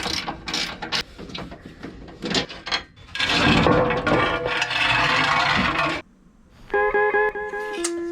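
A ratchet wrench works loose the sump guard bolts underneath a classic Mini being prepped for gravel rallying, giving bursts of clicking and metallic clatter with short scrapes and pauses, close by, with no voices.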